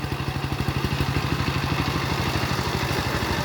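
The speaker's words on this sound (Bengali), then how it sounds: "এটাকে বলে পাওয়ার টিলার" A power tiller engine ploughing a field, running steadily with a loud, rapid chugging rhythm and a mechanical clatter throughout, close by and with no speech.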